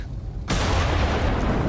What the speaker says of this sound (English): Upon hearing the big explosion, I moved closer to the Witherstorm in order to investigate